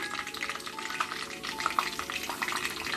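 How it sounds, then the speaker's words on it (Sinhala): Mustard seeds crackle and sizzle in hot oil in a pan, a steady close fizz with small pops scattered through it and no talk. "දැන් මේක රත් වුණාට පස්සේ තෙල් ටික රත් වුණාට පස්සේ අපි ඒකට දාමු අබ ටිකක්"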